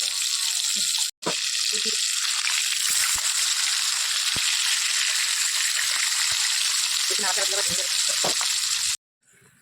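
Fresh fish frying in an oil-filled kadai (wok) in a home kitchen, a steady loud hiss and crackle running almost without break, stopping briefly near the start and again at the end, with voices talking over it.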